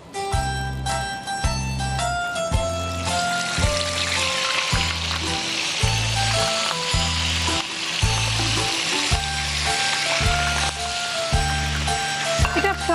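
Chicken frying in hot refined sunflower oil, laid in top side down: a dense, steady sizzle and crackle that runs throughout, under background music with a regular low beat.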